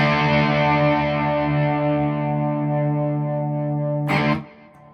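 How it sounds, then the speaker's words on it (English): A 2021 Squier Telecaster Thinline Classic Vibe electric guitar on its bridge pickup through an OCD overdrive pedal rings out a single sustained distorted chord that slowly decays, ending with a brief scrape of strings. "Going to the bridge position, playing the OCD drive."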